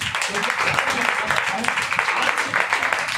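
A church congregation at a Hindi-language Sunday service claps in a steady, dense round of applause, fairly close and sustained throughout.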